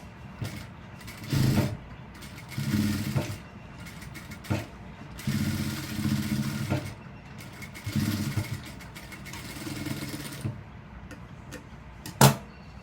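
A sewing machine stitches elastic into uniform pants in short bursts of rapid mechanical whirring, separated by pauses and a few light clicks, close and fairly quiet.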